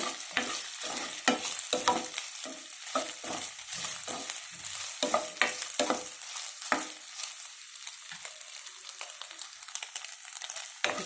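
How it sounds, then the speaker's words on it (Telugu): Soya chunks lightly frying in hot oil in a pan, with a close steady sizzle and rapid clattering, scraping stir strokes that thin out toward the end. "కొంచెం లైట్గా ఫ్రై చేసుకుంటే సరిపోతుంది"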